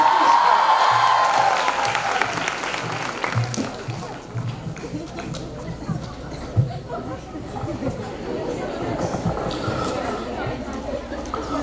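Clapping from a youth event audience swells at first and then fades into crowd chatter and general hubbub, with voices talking over the thinning claps.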